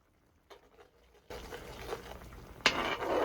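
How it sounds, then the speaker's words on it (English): Chicken curry simmers in a pot, a soft, close bubbling and gurgling that starts quietly, swells suddenly and carries on with a few louder pops. "Bring that up to a simmer, and the curry is done"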